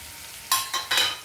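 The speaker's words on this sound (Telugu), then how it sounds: "ఇప్పుడు ఈ చిన్నగా పెట్టుకున్న ఫైన్గా చాప్ చేసిన ఈ ఉల్లిపాయ ముక్కలు వేస్తానండి ఫస్ట్." Finely chopped onions hit a hot pan with a bright sizzle, followed by two quick bursts of frying as they are stirred, with no talking.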